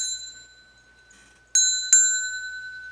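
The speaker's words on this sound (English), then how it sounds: "except it's not square, but it's an old vintage bell" Old vintage metal bell shaped almost like a cowbell, struck twice in quick succession, each strike ringing bright and close before decaying, following a fading earlier ring.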